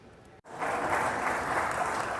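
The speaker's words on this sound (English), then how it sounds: "Governor Ron DeSantis was showered with applause Wednesday as he signed several bills into law" A crowd applauds at a governor's bill signing, a dense and sustained clapping that swells in after a brief gap and holds steady at fairly close range.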